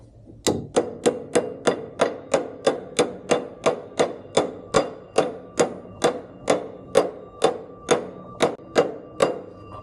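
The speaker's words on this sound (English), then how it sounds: "and then grab a hammer." A hammer strikes a bearing being driven onto a shaft while rebuilding a John Deere 535 cutter bar, giving about twenty evenly spaced, sharp metallic knocks in a steady rhythm, loud and close with no speech.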